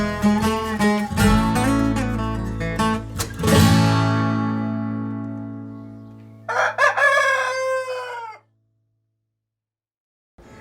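Purebred chickens with roosters crowing, several long harmonic cock-a-doodle-doo calls close by and overlapping, a pause, then one more crow before falling silent.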